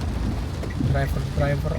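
Steady rain falls in a cold downpour, a dense close hiss with low rumble running through the whole stretch while voices talk briefly over it.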